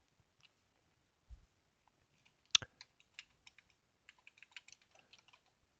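Keys tapped on a computer keyboard in short, irregular bursts of clicks, quiet and close, with a single louder keystroke early on and no talking.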